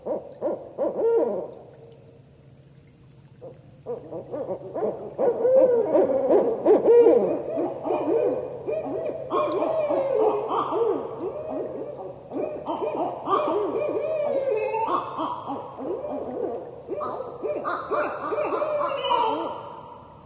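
A pair of barred owls trade loud, excited territorial hoots and cackling, wavering calls at night, overlapping and building in intensity over a faint steady background hum.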